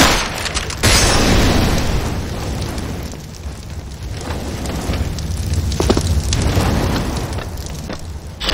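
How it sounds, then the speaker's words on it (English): A grenade blast in the competitive shooter CS:GO, a loud booming burst followed by a long rumbling, crackling tail with further thuds and debris-like hiss, no talk over it. "Grenade."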